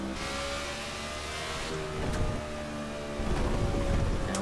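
In the NASCAR '15 racing game, a race car in the Valvoline scheme at the Toyota/Save Mart 350 rumbles with a loud, continuous engine drone that swells as the throttle is worked through the turns.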